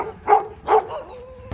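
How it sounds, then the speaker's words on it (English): Two short, close dog barks in quick succession, followed by a faint whine trailing off. "He's barking at you from his trampoline."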